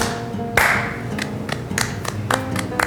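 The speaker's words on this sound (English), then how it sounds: "Clap." A single sharp hand clap rings out, followed by a series of lighter, irregular taps and clicks at close range in a quiet room, no talk.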